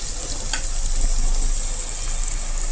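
Potato pieces sizzling in cooking masala for a rajma potato curry, a steady loud hiss of frying that runs evenly throughout with a faint clink near the start.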